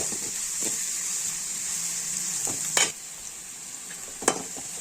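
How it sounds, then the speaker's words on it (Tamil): Onion, garlic and dried red chili sautéing in a pan for a Tamil drumstick-leaf egg poriyal, a steady soft sizzle with a couple of brief stirring scrapes. "இப்போ நல்லா வந்து வெங்காயம் பூண்டு காஞ்ச மிளகாய் நல்லா வதங்கிடுச்சு"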